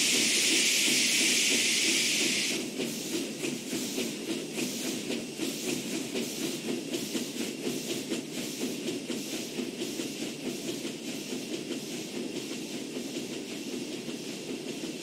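A steam train rolls steadily along with rhythmic chugging and clattering wheels, preceded by a brief loud hiss of steam at the start.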